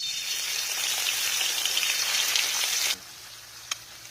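Four quartered eggs fry in a hot pan with a steady, dense sizzle, loud and alone, which then cuts off sharply to a low hush broken by one brief click.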